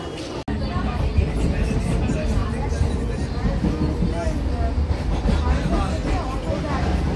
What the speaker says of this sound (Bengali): ট্রেন ঢুকে গেছে। এই ট্রেনটা আসে কৃষ্ণনগর থেকে।